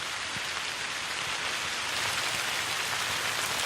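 Steady rain with wind over an abandoned building, a dense, even hiss of falling water throughout.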